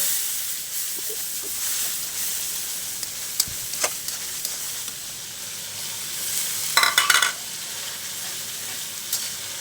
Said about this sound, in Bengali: এখন ভালো করে মশলাটাকে কষাবো